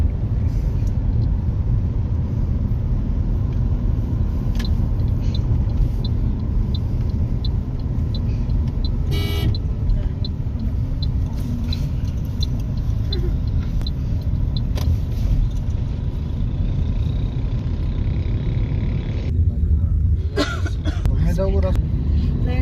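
Steady low engine rumble and road noise fill a car cabin during a ride, with muffled voices, a cough and small rattles over the continuous drone.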